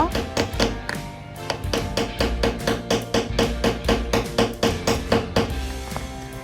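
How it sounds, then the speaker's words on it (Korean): A hammer taps parts together while building a square house model, a quick steady series of sharp knocks close by, with little else around them. "잘 안 끼워질 때는 망치를 이용해서"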